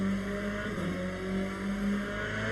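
A race car engine in the sim racing game Le Mans Ultimate, at a Bahrain endurance race, holds a steady droning tone throughout with a slight rise and fall in pitch, continuous and fairly loud, with no talking.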